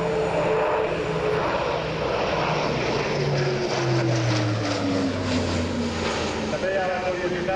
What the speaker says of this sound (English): es el Airbus A400M Atlas